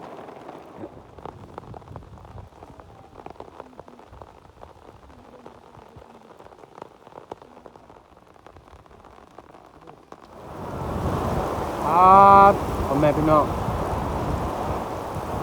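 A heavy rainstorm with strong wind lashes a rice field, a steady close patter of rain that swells into a louder, roaring wash partway through, with someone talking over it.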